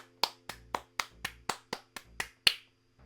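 Ten sharp, evenly spaced hand claps ring out alone in a steady rhythm, each with a short decaying echo, the last one loudest.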